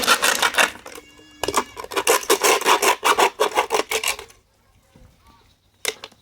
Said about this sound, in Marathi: अशा प्रकारे कापून घ्यायची बाटली, दोन्ही साईडनं बाटली कापून घ्यायची